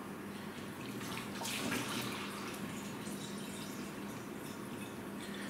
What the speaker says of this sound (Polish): więc dodajemy naszej Coca-Coli, tylko żeby nie porozlewać